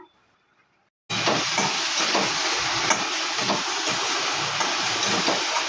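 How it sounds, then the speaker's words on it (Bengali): Fish curry spice paste with chilli and cumin powder frying in a pan for a katla fish jhol, bursting into a loud steady hiss after a second of quiet and sizzling evenly to the end. "আমার মাছের মশলাটা কষানো হয়ে গেছে"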